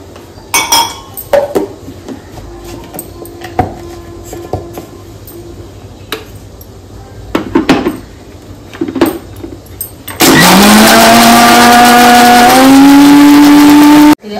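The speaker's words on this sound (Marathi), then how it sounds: "आता मी खोबरं वाटून घेऊया" Scattered clinks of utensils come first, then a kitchen mixer grinder starts blending coconut with water for chutney, a loud, steady whine whose pitch rises slightly as it runs.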